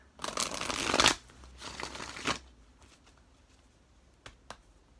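Tarot cards being shuffled up close, two riffling bursts followed by quiet and a couple of soft card taps.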